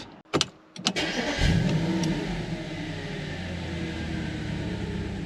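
Audi RS4 switched on, followed by a few sharp clicks and then the engine catching and settling into a steady, close idle rumble.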